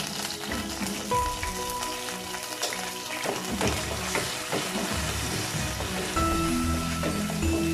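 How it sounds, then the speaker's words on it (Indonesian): Shallots and garlic sauté in hot oil in a pan for oseng leunca with beef brisket, a steady close sizzle and crackle running throughout with scattered louder pops and occasional utensil scrapes. "Dan lalu kita masukkan bawang merah dan bawang putihnya. Kita tumis sampai layu ya."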